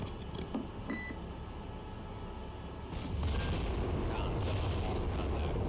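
A warship's gun battery fires in the naval game Cold Waters, producing a low rumbling roar that swells into a heavier, sustained booming blast over ambient battle noise.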